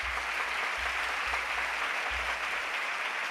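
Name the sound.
audience applause for ISRO team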